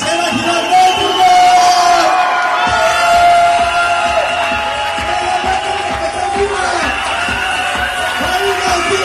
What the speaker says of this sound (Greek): Και τώρα η ατραξιόν, η μεγάλη, η τρομερή υποποταμίνα μας. Ένα χειροκρότημα!